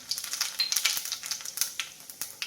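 Cumin seeds sizzle in hot oil after mustard seeds have popped, giving a quiet crackling with sharp irregular pops over a few seconds.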